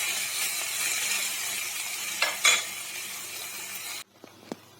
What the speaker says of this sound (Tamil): நல்லா வதக்கி எடுக்கலாம்.